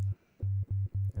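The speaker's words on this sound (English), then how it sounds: "okay, sine wave modulated by sine wave sounds like this." FM synth tone from Ableton's Operator, a sine wave modulated by a sine wave, heard as a low, clean pulsing note repeated in short even bursts, close and clear with no talking.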